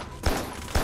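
Two sharp gunshots crack about half a second apart in the video game Carrion, each followed by a brief noisy tail.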